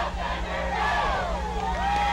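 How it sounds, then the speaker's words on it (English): A crowd at a Division III college football game, Trine at Hope, roars and cheers in a dense, continuous wash of noise, with some voices and whoops rising above it. "Laura Hefner, face painted, as it always is, has this crowd fired up."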